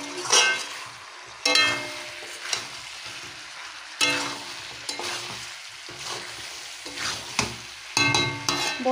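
Chicken stir-fried and scraped around a large wok, bursts of sizzling and clanking stirs recurring every second or two, close and alone without talk.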